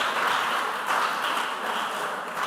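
Audience applause at a junior high school quiz semi-final, a steady, dense round of clapping from a crowd filling the whole moment without a break.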